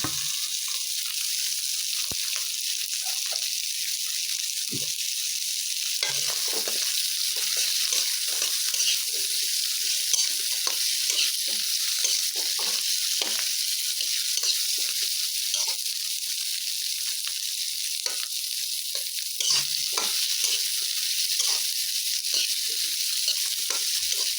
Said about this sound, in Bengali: কাঁঠালের দানাগুলো হালকা করে ভেজে নেব